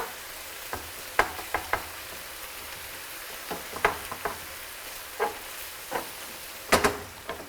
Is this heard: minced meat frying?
yes